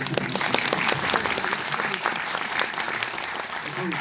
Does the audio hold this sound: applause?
yes